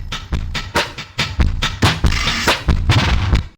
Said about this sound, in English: I found this drum loop on Looperman and I pitched it down by 1200 cents